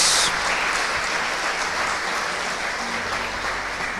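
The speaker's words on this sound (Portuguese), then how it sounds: "Coloque-se de pé e aplauda a palavra de Deus bem forte." A standing church congregation applauds vigorously after a sermon, a dense, continuous roar of clapping that stays loud and even from start to finish.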